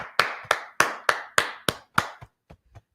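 Sharp hand claps from a Brotherhood class congregation fall in a quick, steady rhythm, about seven loud ones followed by a few fainter, trailing claps, with no talk.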